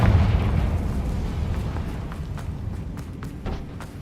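A Confringo fire spell explodes in the video game Hogwarts Legacy: a loud, deep booming blast at the start that rumbles on and fades, with some smaller crackles and pops later.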